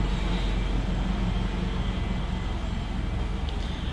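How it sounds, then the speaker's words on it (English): A steady, loud helicopter engine drone with a dense low rumble, holding constant throughout as it passes overhead. "let the helicopter pass first"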